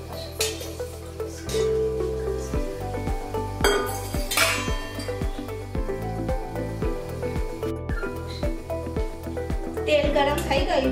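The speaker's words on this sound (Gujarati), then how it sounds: "હવે એક કડાઈમાં 2 ચમચી જેટલું તેલ લઈશું." Metal clinks ring out as oil is spooned into a kadai for chole masala, with steady rhythmic spoon and pan taps close by and someone talking throughout.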